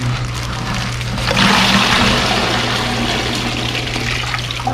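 Water pours and splashes steadily over a zebra moray eel in a PVC pipe beside a 200-gallon aquarium, a loud continuous rush that swells slightly after the first second.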